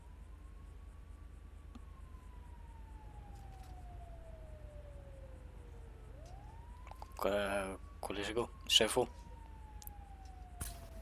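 Fire engine sirens in the game GTA V wail in a long slow sweep that rises and falls, with a second siren tone joining partway; people talk over the later part.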